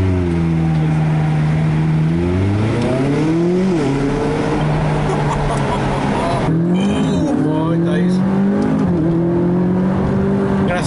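McLaren 765LT accelerating hard through repeated pulls, engine note climbing in rising sweeps, dropping at each gear change, then climbing again, loud from inside the car with voices talking over it.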